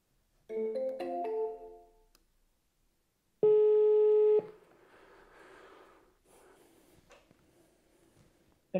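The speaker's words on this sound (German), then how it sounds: "So, jetzt rufe ich hier auch nochmal an." An outgoing telephone call, with a few short dialing beeps followed by a single clear electronic ringback tone lasting about a second, then quiet line hiss.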